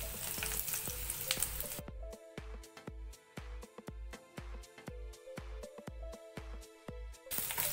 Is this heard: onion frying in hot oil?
yes